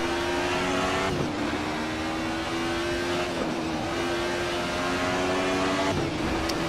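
Alfa Romeo 155 V6 TI touring car in Assetto Corsa at Mugello, its V6 engine droning steadily at high revs with small pitch shifts as the car is weaved to warm the tyres, loud and continuous without speech.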